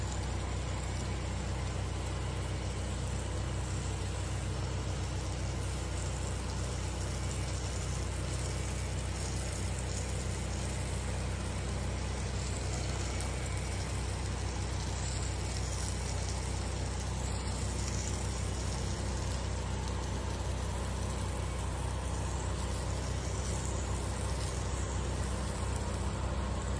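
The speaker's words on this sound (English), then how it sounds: "You can hear the power washer running in the background." A gas pressure washer's steady mechanical engine drone runs continuously and evenly throughout during roof washing, a constant background machine hum with no breaks and no voices.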